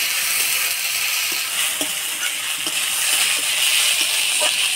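Sliced green banana tossed with turmeric and salt sizzles steadily in hot oil in a pan, with soft scraping stirring strokes every half second or so over a constant loud frying hiss.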